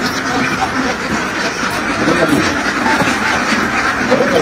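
Geese on a farm honk and squawk close by in a dense, noisy cluster, with a voice heard faintly among the calls.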